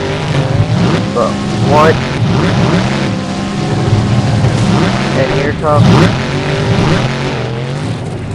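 Monster trucks race in a time attack tournament in Minneapolis, engines roaring and revving hard with rising surges and tire noise, while an excited announcer commentates over the loud action.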